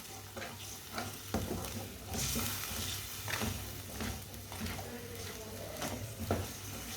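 Masala with added water cooks on a medium flame in a pan for an egg dish, a steady sizzle carrying repeated scraping stirs, close and moderately loud with no talk.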